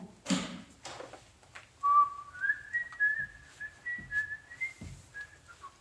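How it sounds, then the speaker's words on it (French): Someone whistles a short, wandering tune nearby, clear and moderately loud, with a few soft knocks and rustles in the background. "ne siffle pas"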